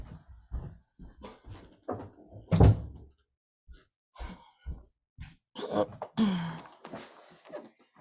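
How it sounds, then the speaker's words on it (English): An indoor door is swung shut with a series of soft bumps, knocks and rattles spaced by short pauses, ending in a firmer thud, all close by with no talking. "I'm just gonna close this door real quick."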